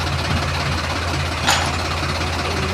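Steady low tractor engine rumble idling throughout, with a brief hiss-like burst midway; no voices.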